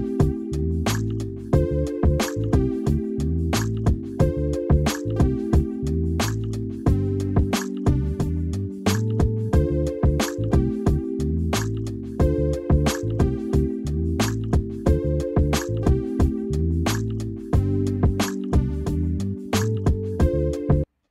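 Funk lo-fi chill hip-hop backing track with a bass line, drums and melodic keys looping over a steady groove, playing alone throughout.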